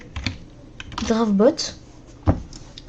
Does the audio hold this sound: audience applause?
no